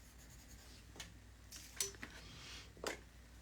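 A pen writing notes on paper in a quiet room, faint close scratching strokes in a few short bursts with pauses between.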